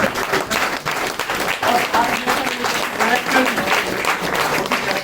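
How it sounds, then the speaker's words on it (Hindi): A theatre audience gives a standing ovation for a director's debut at Akshara Theatre, with continuous clapping throughout while someone speaks over it. "मैं चाहूंगा आप खड़े होकर तालियां बजाएं।"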